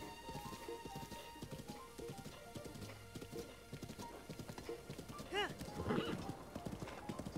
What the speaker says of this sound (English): Riding a horse, it seems.